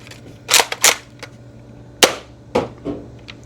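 A Nerf Rival Roundhouse XX-1500 blaster firing outdoors: a few sharp, close mechanical snaps and clacks, loudest at the start, followed by softer clicks of the mechanism, with no talking.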